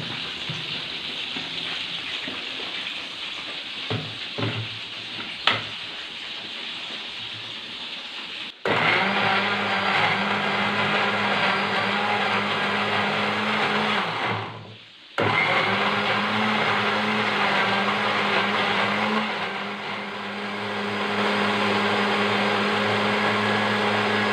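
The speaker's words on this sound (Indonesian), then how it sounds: "Oke, terus masukkan air. Blender sahabatku ya." A kitchen blender grinds spices with added water for quail sambal, whirring loud and steady for long stretches, briefly stopping and restarting, with its pitch shifting as the mix turns smooth.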